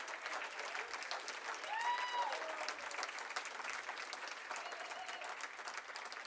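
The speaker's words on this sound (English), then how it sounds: "a nice round of applause once again for all of our award winners" Steady applause from a gala audience honoring award winners at a chamber of commerce awards event, dense continuous clapping throughout with a brief whistle-like tone partway through.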